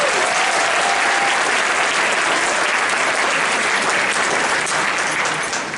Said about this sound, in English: Let's give a big round of applause for our opening performers